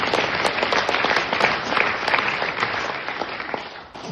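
An audience at a French one-man comedy show applauds steadily throughout, a thick, even wash of many hands clapping in a theater that fades slightly at the end.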